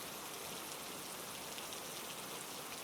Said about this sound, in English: Outside, rain continued to move across the glass roof in long, uneven sweeps.